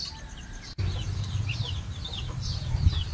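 Chickens in coops at a Filipino rooster farm cluck and call intermittently, several birds at moderate distance, after a brief sharp knock, with a low steady rumble underneath.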